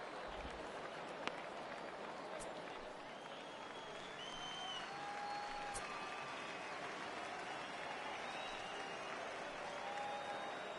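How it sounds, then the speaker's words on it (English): A baseball stadium crowd cheers and applauds steadily for a 3-ball count, a dense sustained wash of distant clapping and voices with occasional whistles, holding at an even level throughout. "Crowd gets up for the 3."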